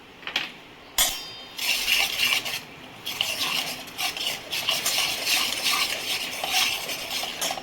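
Spices, salt, red chili and amchur powder being stirred together in a bowl with a spoon, a steady gritty scraping and clinking of metal against the bowl, close and fairly loud, with no talking.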